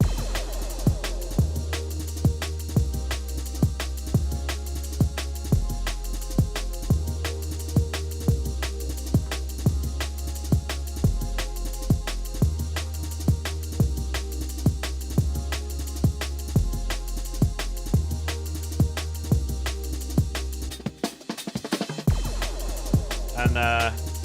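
Liquid drum and bass section built from two sampled drum breaks, steady looping breakbeat with deep bass pulses and layered pads, loud and continuous with a brief dropout near the end.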